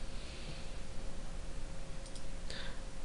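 A few quick, crisp computer mouse clicks land near the end, sharp and close against a steady background hiss with a faint electrical tone.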